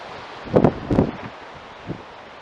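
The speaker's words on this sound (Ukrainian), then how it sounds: "Вітер, звісно, вибачаюсь." A few brief gusts of wind buffet the microphone, two close together then a softer one, over quiet background.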